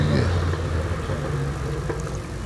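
A Datsun 1600 race car at a lakeside hillclimb event, its engine a steady, fairly loud drone held throughout with a deep low rumble and no distinct revs.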